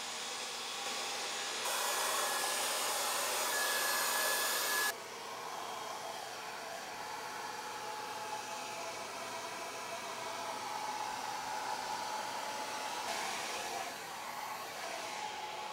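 A hair dryer blows steadily on plastic film insulation stretched over a window, a continuous loud whooshing hiss that shifts slightly in pitch and level as the dryer moves, with no voices.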